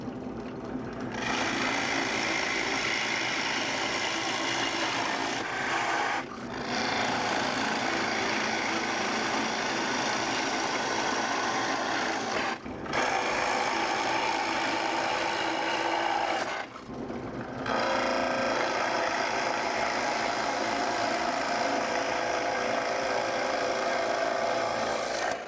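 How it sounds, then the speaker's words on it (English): A router trims the edge of a multi-wood charcuterie board along a template, its motor a steady, loud whine that holds for the whole stretch with a few brief dips. "my router is gonna trim all that up there"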